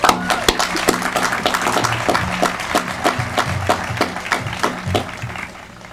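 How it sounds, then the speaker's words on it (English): A graduation ceremony audience applauds steadily, many hands clapping in a dense rhythm that carries on for several seconds before tapering off. "Let's give them a round of applause."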